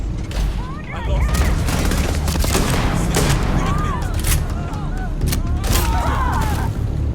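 Gunfire in the video game Starfield, with rapid bursts of shots and booms over a busy battle backdrop of whooshing effects, loud and sustained throughout.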